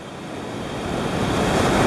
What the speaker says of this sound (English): The current from the waves is coming over the sandbar